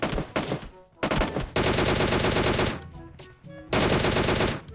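Gunfire from a Tommy gun in the mobile shooter PUBG Mobile Lite: loud, dense bursts of rapid automatic shots broken by short pauses, with the longest, heaviest volleys filling most of the stretch.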